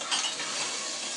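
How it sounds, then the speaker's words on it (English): Jollof rice stew with tomatoes and pepper being stirred in a pot, a brief close burst of wet scraping and swishing with faint clinks of the utensil. "Nicely stir it again."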